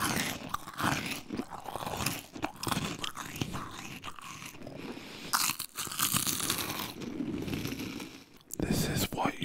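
Cheez-It crackers being crunched and chewed up close, a steady run of crisp bites and grinding crunches with brief pauses, fairly loud and dry, no talk over it.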